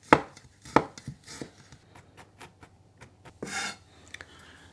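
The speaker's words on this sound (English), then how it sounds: "Now we just want to finely chop 4 cloves of garlic." A knife finely chopping four garlic cloves on a board, with a few sharp isolated knocks followed by quieter, scattered taps and a short rasping scrape, close and alone.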